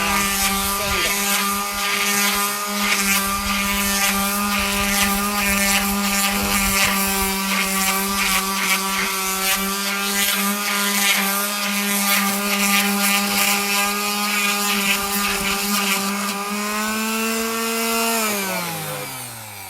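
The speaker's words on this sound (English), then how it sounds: "He's going to sand it." A power sander works over a wooden table surface that has been scorched with a torch, its motor giving a loud, steady, droning whine that holds for nearly the whole stretch before spinning down at the end.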